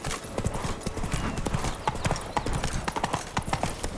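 Horse hooves in The Witcher 3 strike in a quick, rhythmic clip-clop of galloping, steady and fairly close throughout, with faint game ambience behind.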